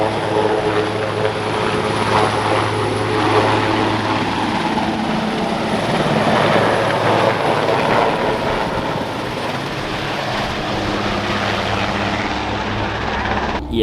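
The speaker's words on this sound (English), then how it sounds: "the helicopter's taking off" Rescue helicopter lifting off in a canyon, a loud continuous rotor and turbine roar with a steady throbbing beat, close by and dominating throughout.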